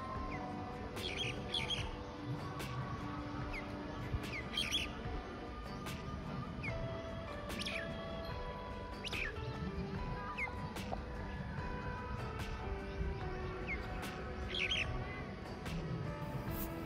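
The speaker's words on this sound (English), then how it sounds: "A mynah is scolding angrily, demanding his favorite food." Mynah scolding in a garden, giving repeated harsh squawking calls in short bursts over a steady background of birdsong and ambient garden noise, moderately distant.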